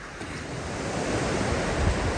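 Sea waves break and wash onto the shore at Cromer and Overstrand on a foggy night, a steady close roar of surf with no voices.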